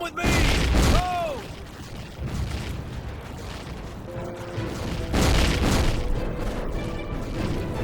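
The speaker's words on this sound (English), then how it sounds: "the same fucking explosion sound" Booming explosion effects from a History Channel first-person shooter video game come as two heavy blasts several seconds apart, loud and close, with smaller crashes and a rising whistle between them.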